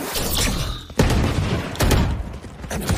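A flashbang detonating in the tactical shooter Valorant, a loud close burst with thumping impacts amid gunfire-like bangs, repeated in a couple of heavy hits over continuous game noise.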